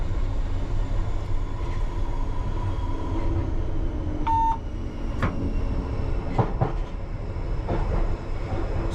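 A London Underground train runs through the night toward South Harrow on the line from Acton Town, heard from the driver's cab as a steady low rumble with a few sharp clicks and rail clatter.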